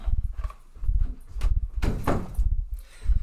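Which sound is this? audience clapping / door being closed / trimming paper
door being closed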